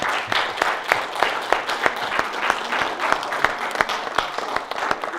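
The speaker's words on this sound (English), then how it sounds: "I'd like to have an applause for the children in their program today" Church congregation clapping for the children after their program, a brisk run of many hands with distinct sharp claps in an even rhythm, moderately close, with faint voices underneath.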